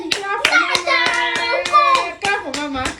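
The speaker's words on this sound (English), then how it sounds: "Clap for Mama. Clap for me." Family members clap their hands together at home during a birthday game with kids, sharp claps in an uneven run of about a dozen, with a voice and other voices talking over them throughout.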